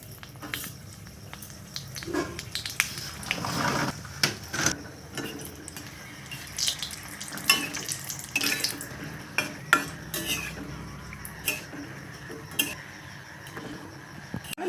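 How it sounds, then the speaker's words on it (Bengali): Four dry red chillies fried in hot mustard oil, giving soft crackles and intermittent sharp pops and clinks close by, fairly quiet and without talk. "তেল গরম হয়ে গেলে আগে থেকেই ফাটিয়ে নেওয়া চারটে শুকনো লঙ্কা তেলের ভেতরে ছেড়ে দেবো"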